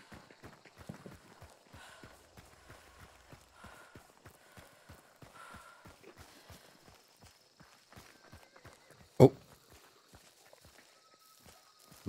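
A horse in the video game Hunt: Showdown walks with a steady, quiet clip-clop of hooves at a moderate distance. A single sharp, loud crack breaks in briefly near the end.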